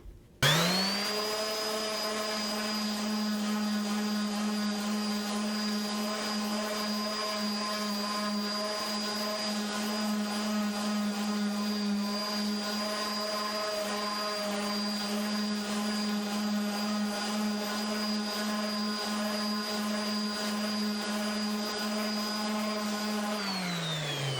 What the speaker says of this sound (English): with the random orbital, I've got a 120 on